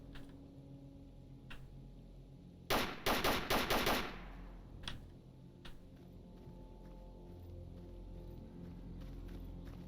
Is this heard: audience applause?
no